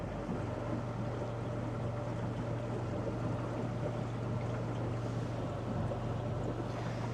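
Small boat outboard motor running steadily at higher throttle on open water, a constant loud engine drone with a low hum and wind rushing throughout, with no talking.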